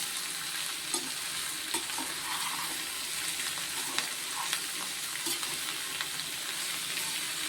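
Steady crackling sizzle of snake gourd frying in a pan, with occasional soft clicks of stirring, continuous and close.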